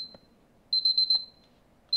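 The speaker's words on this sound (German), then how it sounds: "So, da piept schon wieder mein Timer." Kitchen timer beeping in high, piercing bursts: one short beep, then a rapid run of four or five pulses, and another beep at the end, loud and close in a quiet room.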